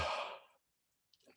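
A single voice-warm-up yawn, a long breathy exhale that starts loud and fades out, then a short faint breath or rustle after a pause of silence.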